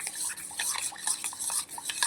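Spoon stirring rice flour and water into a paste in a small bowl, soft quick scraping and clinking strokes in an irregular rhythm, close and quiet.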